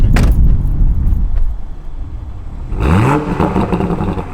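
A 2020 Toyota Supra engine revs outdoors, a sharp rising rev burst following a steadier rumble, loud and close with no talking.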